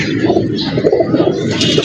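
An older pigeon of a traditional breed coos close and loud, a short series of throaty, bubbling calls in quick succession.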